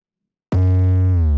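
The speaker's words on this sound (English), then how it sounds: "And it's actually just an 808 with a slide note" An 808 bass note in a moombahton fill, layered with a Serum synth preset, hits loud and sustained with a deep booming tone and a short pitch slide, alone for about a second.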